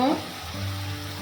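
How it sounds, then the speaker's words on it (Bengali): Turmeric and chili powder frying in oil for a prawn and pointed gourd curry, a brief hissing sizzle with a faint low hum and a short clatter at the start. "মশলাটা ভাজা ভাজা করে নেব"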